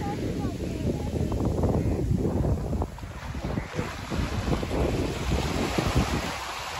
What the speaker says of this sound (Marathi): आम्ही इलो समुद्रामध्ये, मालवण समुद्रावरती